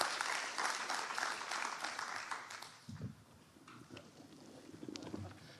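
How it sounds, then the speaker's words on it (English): A conference audience claps for about three seconds, fairly close and lively, then the applause fades into quiet room murmurs and shuffling. "Please give a big round of applause."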